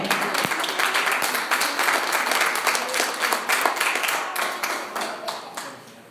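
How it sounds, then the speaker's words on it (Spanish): A church congregation applauds together in a steady, dense wash of clapping that holds for several seconds and then gradually tapers off, with no voices over it. "Dale un aplauso al Señor."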